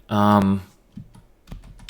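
Keys tapped on a computer keyboard while entering text into a C# program, a few scattered clicks following a short burst of voice.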